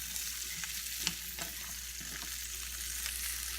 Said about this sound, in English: now we're just going to stir fry this for a couple of minutes